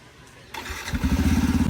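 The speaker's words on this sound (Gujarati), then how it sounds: "પપ્પા તો નવું બાઇક લઈને હેડ્યા" A new motorcycle's engine starts with a short crank, then revs and settles into a loud, close, pulsing run as it moves off.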